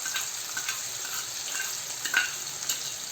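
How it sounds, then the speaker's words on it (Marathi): Finely chopped onion frying in hot oil gives a steady, close sizzle with brief crackles and a few louder pops, and no voices. "आता हा चिरलेला कांदा आपण लाल होईपर्यंत परतून घेऊया"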